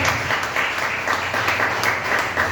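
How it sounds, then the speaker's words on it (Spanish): A congregation claps steadily and loudly during a Friday night healing and miracles church service, a dense, even wash of applause with no speech over it. "Den un fuerte aplauso a nuestro Dios, a nuestro Rey"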